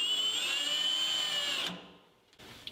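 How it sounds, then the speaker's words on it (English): Power drill boring into the steel chassis of a VW Beetle during a restoration, a steady high whine running close and alone for about a second and a half before cutting off, followed by faint clatter. "This is drill till you find it."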